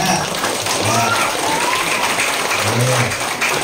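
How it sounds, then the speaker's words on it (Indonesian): Children clap together at an elementary school event, a dense, continuous patter of applause that stays fairly loud throughout. An adult voice can be heard faintly beneath it. "tepuk tangan dulu biar semangat"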